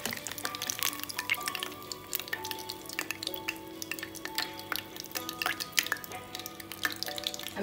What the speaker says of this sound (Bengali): এভাবে আমি সবগুলো পাকোড়া ভেজে নেব